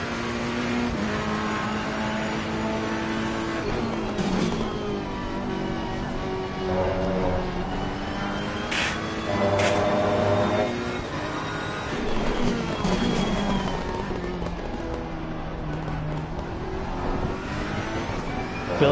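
A Ferrari GT race car in the racing game Assetto Corsa Competizione laps Brands Hatch, its engine droning loud and continuous with rising and falling revs through gear changes and a brief lift around the middle.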